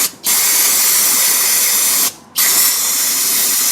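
Brake cleaner aerosol sprayed onto a CV axle during a 2011 Toyota Sienna passenger-side axle replacement: a loud, steady hiss with two short breaks between bursts, close to the can.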